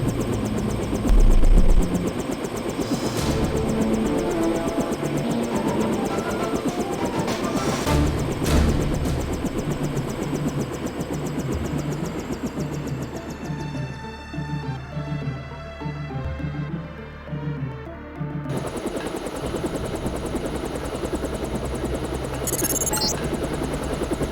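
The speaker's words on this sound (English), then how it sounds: "Time to see if this stealth copter is worth all the fuss." A stealth helicopter in the Deus Ex video game flies toward Hong Kong, its rotor and engine drone steady and loud for the whole stretch, with shifting mechanical tones and a brief dip midway, no voices.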